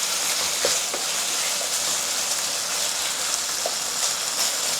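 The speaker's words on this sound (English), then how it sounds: "Let it sear for a while over medium to high heat" Beef strips sear in a single layer in a hot pan over medium-high heat, giving a steady, dense sizzle with faint crackles, close and continuous throughout.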